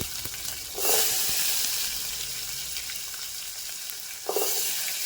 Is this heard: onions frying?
yes